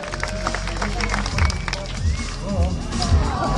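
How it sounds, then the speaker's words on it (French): Crowd applauding a BMX pro rider at the Roc d'Azur 2012 event, a steady wash of clapping and cheering with some babble mixed in, moderately loud and continuous throughout. "Je pense qu'on peut l'applaudir bien fort, monsieur JC Pierry."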